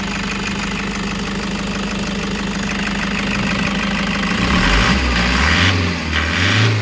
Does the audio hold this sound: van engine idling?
yes